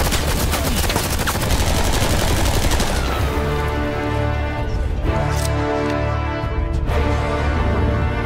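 Covering gunfire in a World War Two themed short film: a dense, rapid rattle of shots fills the first few seconds, then gives way to a low sustained musical drone.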